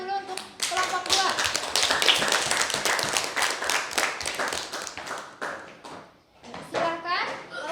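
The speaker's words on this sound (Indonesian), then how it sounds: "Kasih tepuk tangan dulu untuk kelompok 2." Classroom audience clapping for a student group's presentation, a dense burst of hand claps running for several seconds and tapering off, mixed with children's voices and chatter.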